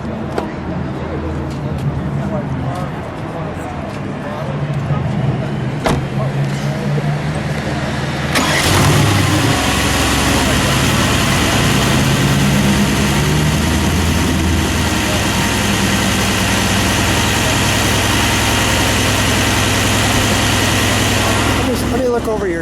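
A black 2020 Mercedes-AMG GT R Pro V8 cranks and fires up, roaring loudly close by before settling into a deep, steady rumbling idle with a changing exhaust note, under occasional talk.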